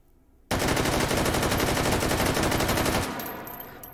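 An AK-12 rifle fires in the VR shooter H3VR: one loud, sustained burst of rapid automatic shots runs for about two and a half seconds, then trails off into a fading echo.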